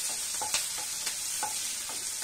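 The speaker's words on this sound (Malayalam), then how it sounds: "ഇനി നമുക്ക് ഉള്ളി നമുക്കൊന്ന് വഴറ്റി എടുക്കാം" Sliced shallots and onions sautéing in oil in a pan for a Kerala yam stir-fry, sizzling steadily up close while a spoon scrapes and stirs in a few quick, regular strokes.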